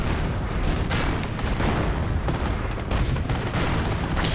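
Artillery shells pound a Flak 88 position in the World War II strategy game Company of Heroes, with repeated booming impacts and crackling gunfire mixed into a loud, continuous battle din.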